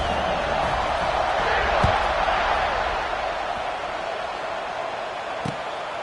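A stadium crowd roars steadily in the NCAA 26 college football video game during a kickoff after a touchdown drive, a dense continuous wash of cheering with a commentator talking over it.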